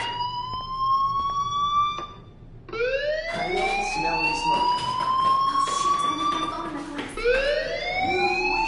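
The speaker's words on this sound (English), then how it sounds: "do you hear that fire alarm?" A fire alarm rings in the Life is Strange video game: loud, repeated rising electronic wails sweep upward in steady cycles, with a brief dip before the alarm resumes.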